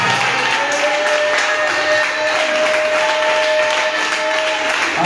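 A church congregation at an intense prayer night applauds to acclaim Jesus, dense steady clapping filling the room without a break and mixed with faint crowd voices.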